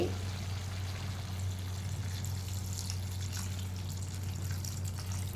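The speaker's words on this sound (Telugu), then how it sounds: "కొద్దిగా మగ్గాక నేను వాటర్ వేస్తున్నానండి" Water pours steadily into a cooking pot of simmering food, a continuous close trickling stream running throughout with a low hum underneath and no talking.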